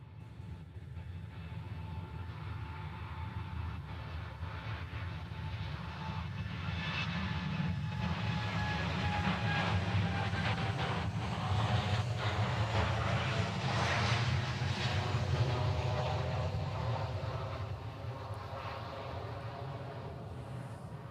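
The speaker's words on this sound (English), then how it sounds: "This is Korean in the new livery. It's a Dreamliner heading back to Seoul." A Korean Air Boeing 787 Dreamliner jet airliner in new livery roars past on departure from Honolulu, a broad engine rumble swelling to a peak mid-way and slowly easing off, with no talk.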